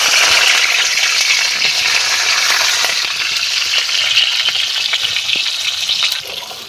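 Onion and green chilies frying in hot oil, a loud, dense, steady sizzle close up, with faint occasional stirring taps, easing slightly near the end; no talking.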